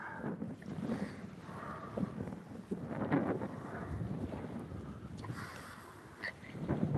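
Wind buffets a microphone on a fishing boat, producing a fluctuating low rumble and gusty roar that rises and falls over several seconds, fairly faint overall.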